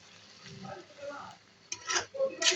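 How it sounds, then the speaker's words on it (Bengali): Noodles being fried and stirred in a pan, with soft scraping strokes early on, then louder clattering, rustling stirs toward the end over a quiet background. "এটা শুকাইব, একদম ভাজা ভাজা হয়ে শুকাইব।"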